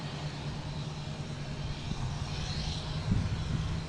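KLM Airbus A330-200 airliner from Amsterdam at Boston Logan airport, a broad steady engine roar with a low hum, moderately loud and swelling slightly toward the end, with no talk.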